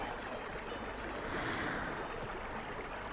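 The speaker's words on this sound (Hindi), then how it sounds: "नदी की कलकल ध्वनि के अतिरिक्त और कुछ भी तो ऐसा नहीं जो ध्यान भंग करे" A steady, soft wash of a murmuring river stream, used as a radio play sound effect, flowing continuously at low level with no voices.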